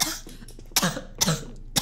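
A person coughs in three sharp, separate bursts, each close and fairly loud against a quiet background, during a Minecraft-style gaming session.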